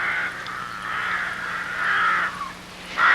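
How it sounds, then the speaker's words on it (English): Rooks cawing at a rookery, harsh repeated caws from several birds, fairly close and overlapping, with a louder call at the end and background chatter of the colony. "young one-year-old rooks start to visit rookery after rookery"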